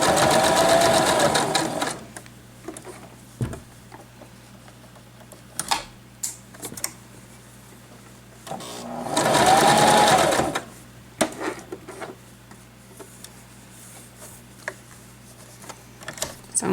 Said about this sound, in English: I'm actually going to sew to this pin, and then I'm going to stop